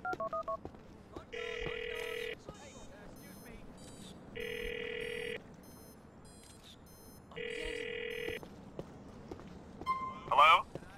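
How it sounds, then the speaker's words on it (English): In GTA IV, a telephone rings three times in evenly spaced bursts, each ring a bright electronic trill lasting about a second, with quiet background noise and a short extra tone at the end. "You've got to call him and keep a lookout for someone answering a phone."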